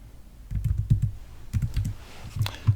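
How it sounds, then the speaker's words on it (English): Quick bursts of keystrokes on a computer keyboard, soft close clicks in two short runs with a pause between them. "I would just type in there space"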